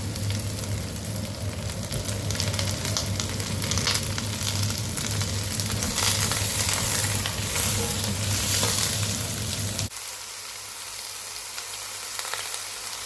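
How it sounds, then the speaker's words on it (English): Vegetables for a creamy pumpkin soup fry with a steady broadband sizzle in a pot while being stirred, loud and continuous, with the sizzle dropping noticeably toward the end. "So I will just add the vegetables and stir."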